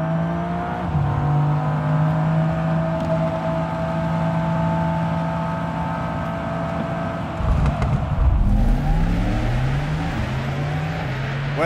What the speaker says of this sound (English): For our customers, the emotional sound of an AMG is part of the driving